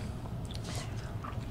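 Close, crunchy chewing of Ritter Sport grapefruit chocolate with crisp bits, a short burst of soft crackling bites and mouth sounds heard alone without talk.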